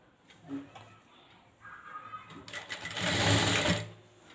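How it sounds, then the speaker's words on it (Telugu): An electric sewing machine stitches thread piping along folded fabric; the whirring starts faint and halting, then runs loud and steady for about two seconds before stopping. "ఇటు సైడ్ నుంచి కుట్టడం స్టార్ట్ చేసుకోండి"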